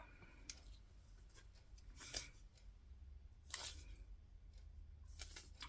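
Scissors snipping during a paper craft project, a few separate crisp cuts spaced apart against faint room hiss, close and quiet with no talk.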